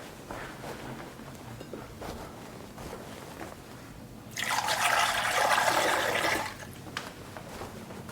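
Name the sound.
spring water poured for chicken meat stock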